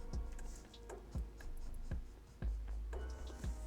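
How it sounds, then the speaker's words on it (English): Soft scratchy strokes of a pencil drawing on paper, faint and close, with short repeated marks and light thumps in an irregular rhythm. "I'll just draw it in just for the sake of drawing it in"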